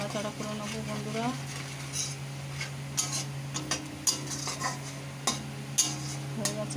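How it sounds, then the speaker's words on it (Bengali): Dried red chilies stirred in a hot cooking pan, giving a steady sizzle with sharp, irregular scrapes and clicks of the spoon against the pan; a voice is heard briefly at the start. "শুকনো লঙ্কা দিচ্ছি। কাঁচা লঙ্কা চেরা দেয়নি, সেই জন্য একটু হালকা করে নাড়াচাড়া করে নেবো"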